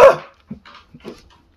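A dog barks once loudly up close, followed by a few softer, shorter yips and whimpery barks at a distance inside a house at night.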